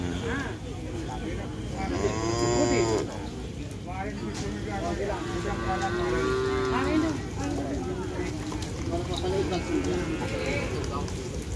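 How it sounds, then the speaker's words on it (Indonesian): Cattle at a livestock gathering moo several times in drawn-out calls over steady crowd chatter and people talking nearby, with a busy outdoor background throughout. "ini sapi kecil juga"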